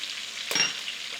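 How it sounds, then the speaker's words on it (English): Oxtail searing in a pan, a steady close sizzle with a brief louder crackling burst midway as the meat shifts. "So now both sides are effectively seared."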